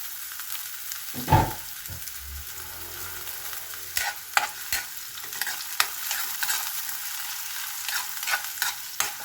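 Garlic and onion sautéing in a pan for sarciadong galunggong, a loud sizzle as they hit the oil, then steady frying with sharp spatula scrapes and stirring clatters at intervals, no talk.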